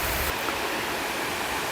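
Waterfall at Lower Falls in Graveyard Fields near Asheville, North Carolina, giving a steady, close, broadband rush of falling water with no letup and no voices.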